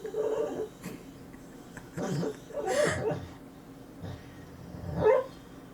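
A sleeping dog, dreaming, makes low, throaty growls and muffled whimpering noises in a few separate bursts, close by and fairly quiet, with short pauses between.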